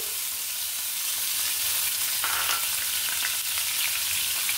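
Chopped garlic fries in oil with a dense, steady, bright sizzle that holds throughout at close range, and an occasional faint stir shows through the crackle.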